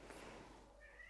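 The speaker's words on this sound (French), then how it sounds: "si vous entendez miauler, vous inquiétez pas, c'est la minette" A house cat gives a faint, short meow indoors, a single soft call in a quiet room.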